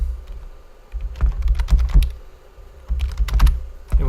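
Computer keyboard typing in two bursts of quick keystrokes separated by a pause, close and clear with no voices.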